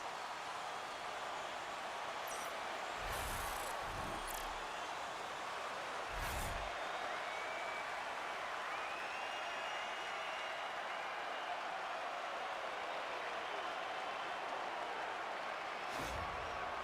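Hockey arena crowd at a Tampa Bay Lightning versus Detroit Red Wings NHL game after a Detroit goal, a broad sustained roar of cheering with a few brief thumps, steady and distant-sounding throughout.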